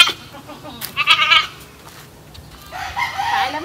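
Goats bleat in short bursts close by at a family home with chickens, one cry followed by another after a pause, over quiet background noise with no voices.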